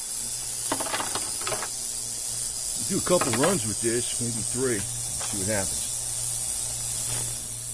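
Ultrasonic cleaner running steadily on Chevy 350 V8 spark plugs, a constant loud high hiss with a low hum underneath, while someone talks over it.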